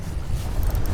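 Wind gusts on a lake while fishing walleye from a boat, a brief low rumbling buffet against the microphone with a faint wash of water, no voices.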